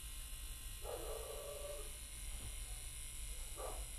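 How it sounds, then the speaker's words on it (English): Several dogs bark in the distance, a short run of barks followed by a couple of isolated yaps, faint behind a steady electrical hum from a homemade supercapacitor running a motor. "upsetting dogs and everything. You might be able to hear them in the background."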